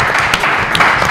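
Audience applause at a televised French game show, a dense steady wash of clapping that fills the whole short moment without pause.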